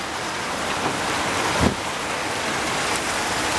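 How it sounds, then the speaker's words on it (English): Dense, steady pattering of hail hammers down continuously during a severe thunderstorm in New South Wales, Australia, with one brief louder thump partway through. "We've got a hailstorm."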